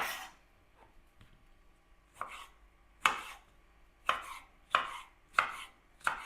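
A knife cutting plums into small cubes on a board, about seven crisp chops at an uneven pace, close and otherwise quiet.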